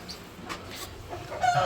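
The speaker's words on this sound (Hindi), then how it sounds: "माशाल्लाह बहुत प्यारी मुर्गियाँ यार" Hens in a coop on a rainy day, with soft, close clucking in short irregular bursts over a faint background hiss of rain.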